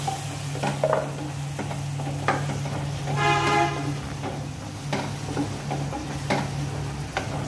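Prawn bhuna stirred in a frying pan, with repeated scraping clicks of the spoon over a low, steady sizzle and a constant background hum, and a brief harsher rasp midway.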